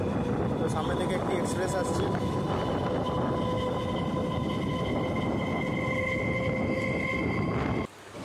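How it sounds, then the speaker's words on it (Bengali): Biswabharati Fast Passenger, a local train from Rampurhat to Howrah Junction, rumbles steadily into a station with a loud, continuous roar, wheel noise and faint squealing tones, while a voice talks over it until the noise drops away abruptly. "এখন আমাদের সামনে আসছে ট্রেন নাম্বার 53048 রামপুরহাট থেকে হাওড়া জংশন পর্যন্ত বিশ্বভারতী ফার্স্ট প্যাসেঞ্জার"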